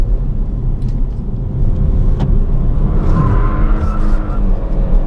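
Steady engine rumble of a base model Kia Stinger sports sedan under continuous load with traction control off, with a rising whine as it pulls hard through the gears, loud and close throughout.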